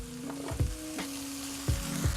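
Onions and potatoes fry in a hot pan, giving a quiet, steady sizzle. A few soft stirring scrapes and clinks break in now and then.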